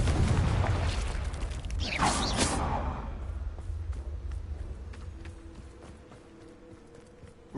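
A Confringo blasting spell explosion from Hogwarts Legacy bursts loudly in a heavy, low boom with a whooshing sweep, then decays into a fading rumble with faint mechanical clicks and a sharp hit at the end.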